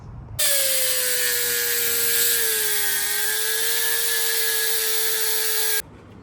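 A rotary tool shaving plastic off a car headlight housing on a Fiat Panda 4x4, a loud steady high whine running continuously for several seconds before cutting off abruptly.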